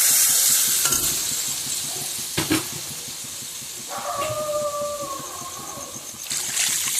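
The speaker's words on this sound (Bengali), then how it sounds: "মশলাটা ভাজা হয়ে গেছে এবার আমি যেটার মধ্যে মশলা পেস্ট করেছিলাম সেই জলটা দিয়ে দেবো" Spice paste for a fish curry frying in a pan, with a steady loud sizzle, a couple of sharp knocks, then water poured in with a splash and trickle that briefly changes the hiss.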